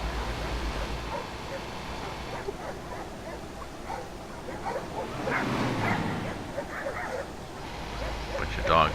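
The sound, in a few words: dogs barking at a farm in Euro Truck Simulator 2 (video game)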